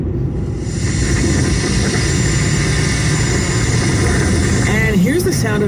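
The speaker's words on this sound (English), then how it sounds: "If you ever wondered what it sounds like when an aphid eats" Aphid feeding captured as a recorded insect sound: a steady, loud crackling hiss with dense low rumbling textures running throughout, continuous and unbroken, with a brief warbling sweep near the end.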